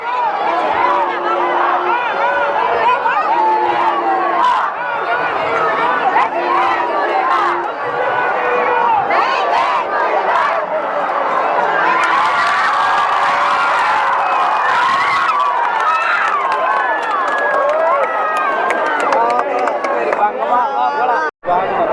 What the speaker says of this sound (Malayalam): ഇവിടെ മുരുകന്റെ രഥം എത്തിയതിൻ്റെ ആരവമാണ് കാണുന്നത്